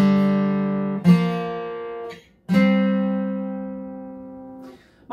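Guitar plays two strings together as a double stop, three times: two sustained notes ring out and decay, each struck alone with no talk.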